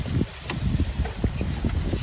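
Gusty wind buffets the microphone in uneven bursts, a low rumbling rush with occasional faint knocks, no voices.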